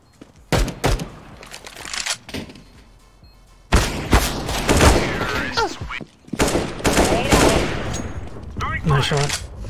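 Gunfire in CS:GO, with rapid automatic bursts and single loud shots arriving in clustered volleys that are separated by short pauses and mixed with thuds.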